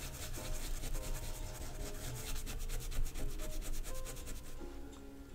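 A thick paintbrush sweeps over the large areas of a luna moth drawing on textured paper, giving a close, continuous dry rubbing and scratching with quick repeated strokes.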